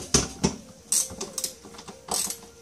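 Ratchet wrench loosening a 12 mm bolt on the bell housing side of a Honda Civic manual transmission, a few short bursts of mechanical ratcheting clicks, close and fairly loud, with pauses between strokes.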